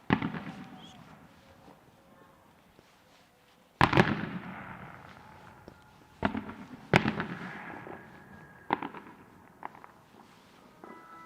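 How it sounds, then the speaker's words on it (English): Fireworks burst in sharp, echoing cracks at a padel league match, around half a dozen separate bangs spread irregularly, each trailing off into a rumbling decay; fairly distant and moderate in level. "We've got fireworks in the background."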